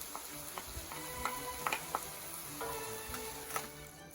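Onion and chopped garlic fry in olive oil in a pan, giving a steady low sizzle with occasional light clicks and scrapes of stirring, fairly quiet throughout.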